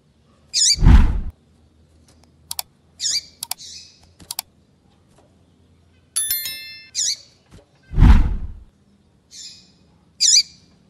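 Female Papa-capim seedeater gives short, repeated high chirping calls in separated bursts, close and clear against a quiet background, mixed with occasional low thumps and clicks.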